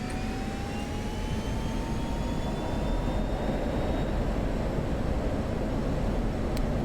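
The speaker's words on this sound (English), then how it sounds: "So full afterburner." F-16C jet engine at full afterburner in a DCS flight simulator, a steady, loud, continuous roar with a slowly rising whine layered over the broadband rumble throughout, no voices.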